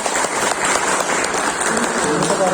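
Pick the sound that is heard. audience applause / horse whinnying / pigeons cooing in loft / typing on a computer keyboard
audience applause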